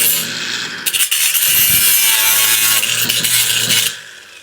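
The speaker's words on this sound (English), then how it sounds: "I like the cordless grinder because it has a clutch in it." Cordless angle grinder with a clutch cutting through steel in a car-building shop, a loud continuous abrasive whine with a coarse rasp that runs for about three seconds before cutting off.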